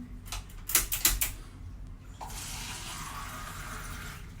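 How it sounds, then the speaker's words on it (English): Water pouring from a tap into a container for wholemeal bread dough, a steady rushing stream after a few sharp clicks and knocks at the start, close and moderately loud with no talking. "one and a half cup of water"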